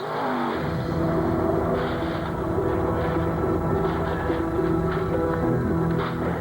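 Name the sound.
sprint car racing and crashing into guardrail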